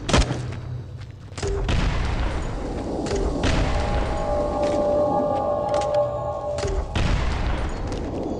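Gunfire in the zombie video game Into The Dead 2, several loud, sharp shots spaced across the stretch with booming thuds and a droning in-game soundscape between them, no voices.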